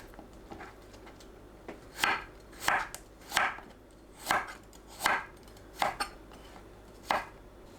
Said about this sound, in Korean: 줄기는 겉에 질긴 껍질을 손질하고 납작하게 썰어줍니다.